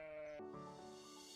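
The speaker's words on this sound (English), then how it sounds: "I'm going to work on finding a way to befriend these sheep" A single sheep in Minecraft lets out a short, close, wavering bleat that dips in pitch partway through, clear and alone.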